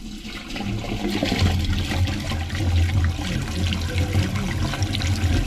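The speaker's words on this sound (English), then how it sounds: "Are you able to flush the toilet for me," A toilet blocked by tree roots in its drain flushes with a steady, loud rush of water and gurgling swirl, running continuously throughout.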